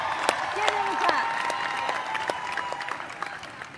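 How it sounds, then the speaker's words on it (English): A large outdoor crowd at a World Cup championship parade claps in a dense, sustained patter of applause, heard from a moderate distance with occasional louder claps standing out. "Give them a clap."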